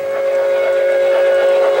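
A train horn sounds steadily and loudly close by at a road crossing, over the rumble of the passing railcars, holding one sustained tone for the whole stretch.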